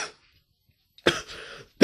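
A person coughs once, a short rough burst following a faint breath, then a second cough begins right at the end, close and fairly quiet.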